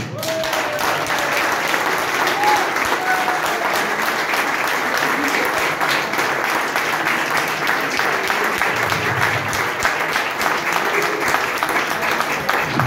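Audience applause at a community gathering in Comines-Warneton, loud and sustained for about thirteen seconds, a dense steady wash of clapping with faint voices mixed underneath.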